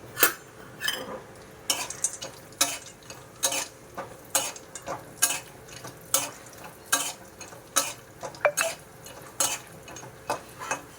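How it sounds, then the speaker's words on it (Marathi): Fifty grams of dried turmeric roots fry in oil while a spoon stirs and scrapes the pan in repeated sharp clinks over a soft, steady sizzle. "इथं पन्नास ग्रॅम हळकुंड आहे त्याला छान असं तेलात तळून घ्यायचं"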